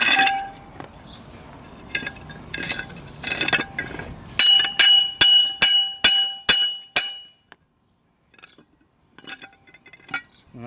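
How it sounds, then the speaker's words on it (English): Sharp metallic hammer blows on the suspension parts of a 2008 Nissan Versa ring out, first in scattered bursts, then a steady run of six or seven loud strikes, followed by quieter clinks and silence. "I'm going to opt for more hammering."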